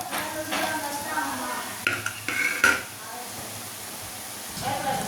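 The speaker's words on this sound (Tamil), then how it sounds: "அதுக்கு முதல்ல எண்ணெய் போட்டுக்கலாம், வெங்காயம் போட்டுக்கலாம்" Chopped onions going into hot oil in a pan for mushroom thokku, with stirring clatter, a few sharp utensil knocks and a light sizzle at moderate distance.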